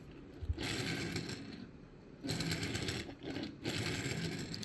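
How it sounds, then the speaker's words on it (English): A Matchbox Citroën e-C4 X toy car with wobbly wheels rolls across a surface in two runs, producing a steady, faint whirring rattle that stops briefly between passes. "let's do a roll test and see how this one drives."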